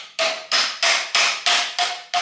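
A hammer or mallet taps the bolts on a RockShox Judy XC bicycle suspension fork, seven sharp metallic strikes at an even pace, loud and ringing, with no voices.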